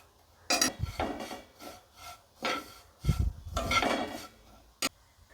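Thin vermicelli fried in a pan over a low flame, stirred in irregular scraping strokes with a few sharp clinks of utensil on metal, close and dry without talk.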